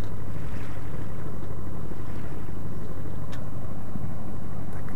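A continuous low boat engine drone with wind rushing across the microphone, steady and loud throughout, as a motorboat approaches Copenhagen.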